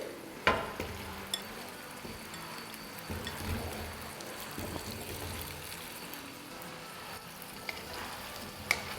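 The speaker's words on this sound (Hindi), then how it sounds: "आलूओं के साथ 2 मिनट भून लेंगे।" Medium-sized potato pieces fry in a pot for chicken pulao, a soft steady sizzle with occasional stirring clicks and knocks, fairly quiet and close, no voices.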